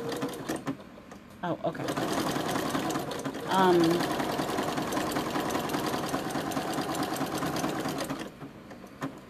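A sewing machine stitches a fabric squirrel toy, its steady mechanical whir running close and continuous for most of the stretch, with a brief spoken exchange near the start.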